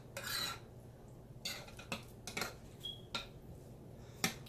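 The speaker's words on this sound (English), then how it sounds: "more olive oil. Okay, that looks good. Stir that up really well." A spoon stirs garlic and olive oil inside a jar, giving a handful of scattered clinks and short scraping strokes against the glass, close and fairly quiet.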